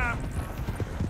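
Hooves of a horse being ridden in Red Dead Redemption 2 clip-clop in a quick, steady rhythm, loud and close. Game music or ambience plays beneath them, and brief talk may be mixed in.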